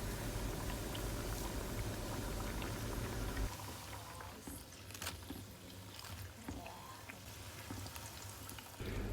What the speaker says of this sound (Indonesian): Dan sekarang kita goreng. Ini pakai api kecil aja ya guys, supaya daging filenya benar-benar mateng sampai dalam.